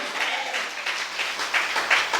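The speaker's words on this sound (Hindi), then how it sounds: "जोर से ताली बजाओ।" A church congregation claps loudly, a dense sustained burst of applause with rhythmic swells throughout.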